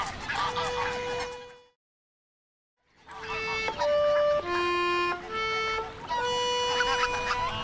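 Greylag geese honk and cackle in a dense flock, loud overlapping calls that break off for a moment of silence and then return with long, brassy honks.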